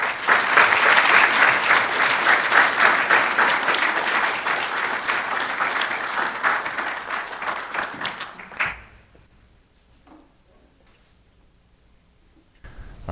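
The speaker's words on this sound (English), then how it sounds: "please give a robust Providence College round of applause to Dr." Audience at a Providence College lecture gives a sustained round of applause, loud and dense, for about eight seconds before fading to near silence, with a brief thump near the end.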